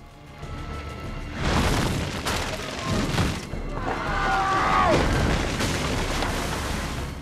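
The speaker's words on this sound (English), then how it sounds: "Probably just kids with firecrackers." Firecracker explosions in Assassin's Creed II, a few dull booms and pops at moderate distance mixed with ambient game sound and a brief whistling tone, with no speech over them.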